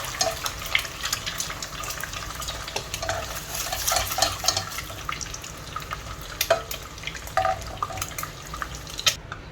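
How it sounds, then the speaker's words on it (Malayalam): Eggs frying in hot oil for egg dum biryani give a steady soft sizzle with scattered pops and spatters, under occasional stirring clatter and utensil clinks. "ഈ ഓയിലിൽ തന്നെ നമുക്കിത് ഫ്രൈ ചെയ്ത് കൊടുക്കാം"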